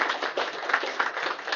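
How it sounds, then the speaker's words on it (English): A room of people at a meeting breaks into steady applause, dense overlapping claps sustained throughout at moderate volume, with no talking over it. "So can we give them a big round of applause?"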